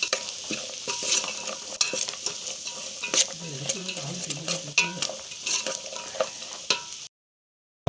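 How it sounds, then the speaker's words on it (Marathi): Peeled, cut jackfruit seeds fry in a pan for a Marathi jackfruit vegetable dish, with a steady sizzle broken by repeated scrapes and clinks of a spoon stirring against the metal, close and clear, ending abruptly. "ते चांगलं फ्राय करून घ्यायचे आहेत"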